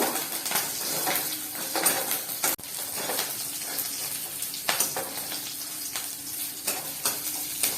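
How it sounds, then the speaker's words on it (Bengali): Green chillies sizzle and crackle in a little hot oil with garlic and five-spice tempering, a steady close frying hiss with bursts of spitting and a few stirring knocks throughout, no voices. "এবার কাঁচা লঙ্কা দিচ্ছি। ফোড়নটা ভেজে নেব।"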